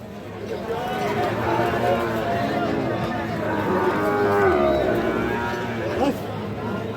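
Sahiwal bull calves at the Ambari cattle market moo in loud, drawn-out calls close by, over a constant background of crowd chatter.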